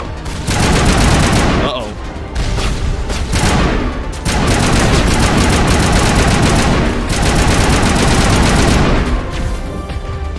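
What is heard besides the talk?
suppressing gunfire in video game Mass Effect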